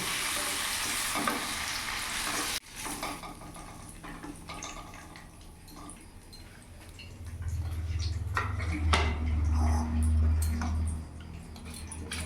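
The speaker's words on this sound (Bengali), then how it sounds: "পনিরগুলো শ্যালো ফ্রাই হয়ে গেছে।" Paneer pieces shallow frying in oil in a pan, a steady close sizzle with light clinks and scraping, then a low hum rising toward the end.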